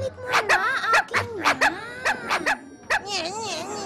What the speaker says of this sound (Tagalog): Anong klaseng aso yan?